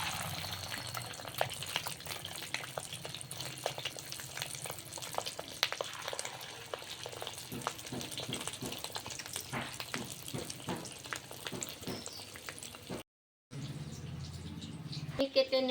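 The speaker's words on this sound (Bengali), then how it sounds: "তেলটা গরম হয়ে গেছে, এখন আমি দিয়ে দেব মাছের ডিম।" Fish roe fries in hot oil with a faint, continuous sizzle and light crackling spatter. The sound cuts out briefly near the end, then resumes.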